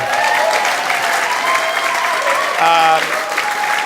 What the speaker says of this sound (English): That was for you to clap